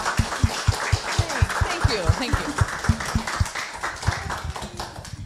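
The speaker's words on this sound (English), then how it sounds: "Let's give her another round of applause" An audience claps for a guest speaker at a tailored menswear talk, a quick patter of hand claps repeated steadily throughout, with a voice speaking briefly over it.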